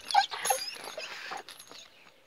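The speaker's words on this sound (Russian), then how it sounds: "нас охраняет пес" A guard dog outdoors near a pond at evening makes short, scrappy whimpering and snuffling sounds with some rustling, loudest at first and then fading toward quiet.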